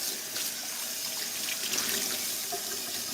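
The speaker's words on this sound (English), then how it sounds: "And again, we'll just rinse it." Tap water runs steadily into a kitchen sink as it is rinsed after scouring, a continuous close splashing hiss with no voices.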